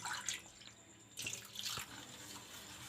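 Water pours into a bowl of wheat flour batter for halwa, giving short splashy bursts and trickles that stop and start, close and moderately loud, with no voices.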